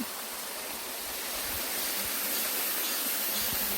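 Suraksan waterfall roars in a steady, dense rush of falling water, loud and close, with no voices over it.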